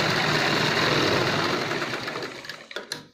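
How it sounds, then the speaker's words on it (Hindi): A sewing machine stitches a seam on a ladies' churidar pajami, running loud and steady for most of the stretch before slowing into a few short bursts at the end. "इसको सिलाई लगा देंगे।"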